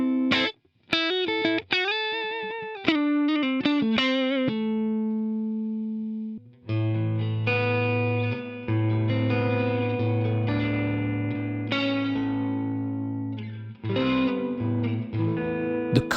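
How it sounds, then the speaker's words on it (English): An electric guitar played through a micro amp pedal with its reverb knob turned up: quick picked chords and single notes, then long sustained chords ringing out with a spacious decaying tail, loud and alone. "The reverb is one knob, and it's a mixed decay kind of deal, where it gives your tone that extra space."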